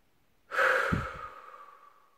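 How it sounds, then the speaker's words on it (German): Slow, long exhale during a guided relaxation breathing exercise, a soft airy breath that starts at once and fades gradually, heard alone and close. "Und alles loslassen beim Ausatmen"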